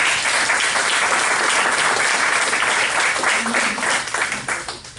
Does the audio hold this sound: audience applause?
yes